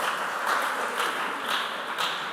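An audience at a junior high school quiz semi-final applauds a team, producing a soft, steady wash of clapping from many hands that sounds fairly distant and low in level.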